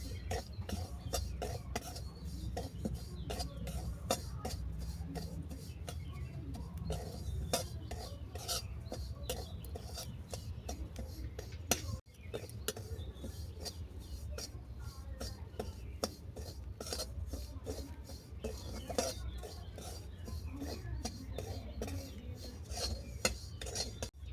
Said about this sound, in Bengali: দিলাম অল্প করে সুজি সুজিটা নেড়ে ছেড়ে হালকা বাদামি করে ভেজে নেবো